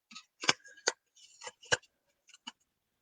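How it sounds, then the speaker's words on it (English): Paper being trimmed for a handmade card, a handful of short crisp snips and clicks spaced irregularly, close and quiet with silence between them. "Let's trim this down."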